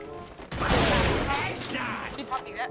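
Gunfire in the Free Fire video game, a dense rapid burst of shots that lasts about two seconds and stays loud and close, followed by scattered fainter shots.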